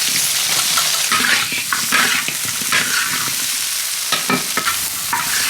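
Pork ribs stir-fried in a wok with fried potato and lotus root strips, a loud continuous sizzle broken by frequent scraping and clacking spatula strokes, close up.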